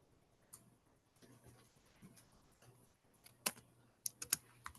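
Someone types quietly on a computer keyboard, producing soft irregular key clicks with a few louder taps near the end, faint against a low background hum.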